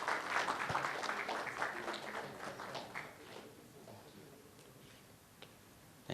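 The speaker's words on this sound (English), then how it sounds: "Can I have a big applause for Sister Shivani?" Conference audience applauding in a hall, a dense patter of clapping that is fairly loud at first, then thins and fades away over several seconds, leaving quiet room tone with a few stray claps.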